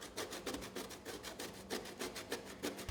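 Hand grating with a handheld grater, making a steady run of rough rasping scrapes in quick repeated strokes, close and fairly loud, with no talk.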